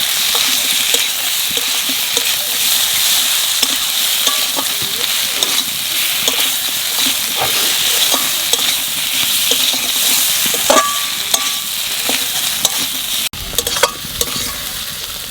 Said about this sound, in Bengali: মশলার সাথে আলুটা একটু ভেজে নিয়েছি